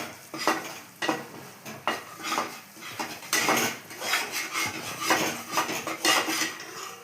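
Cashews stirred and frying in a pan with a metal spoon, scraping and clinking against the pan in bursts over a steady low sizzle.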